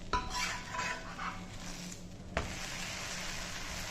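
An oats dosa is turned over in a pan, giving a soft scrape and clatter of the utensil, then a sharp knock near the middle, over a faint continuous sizzle.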